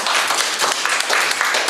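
Applause from a workshop audience on volunteer pro bono work, a steady patter of hands clapping together at moderate loudness with no voices over it.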